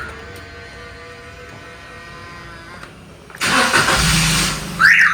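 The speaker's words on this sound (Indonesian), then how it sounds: "mobil berhasil hidup ya" After a quiet stretch, a car engine starts abruptly via a keyless entry system and runs loudly, followed by a brief higher-pitched car alarm tone near the end.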